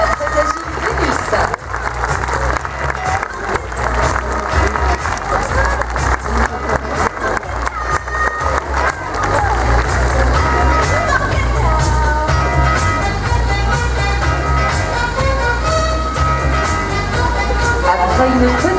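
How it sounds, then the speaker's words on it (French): Spectators at a zoo sea lion show applaud the agile sea lion Vénus, with dense clapping over the first half before music rises and carries on alongside the crowd. "vous pouvez applaudir la très agile Vénus"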